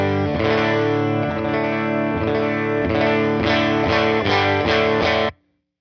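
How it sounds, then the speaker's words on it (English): Electric guitar through a UAFX Woodrow 55 amp pedal set at the edge of breakup, strumming sustained chords with slight grit, steady and loud, ending abruptly after a few quicker accented strums. "We'll try and get more of an edge of breakup sound."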